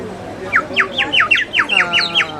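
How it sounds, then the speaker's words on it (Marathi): A rapid series of about nine bright, chirping bird-like squawks from a toy whistle, close and loud, with faint background noise. "पक्षाचे आवाज निघतात"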